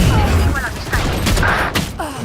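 Gunfire in a Valorant match, dense bursts and shots layered over loud game effects and ambient rumble, with a player's voice talking over the action.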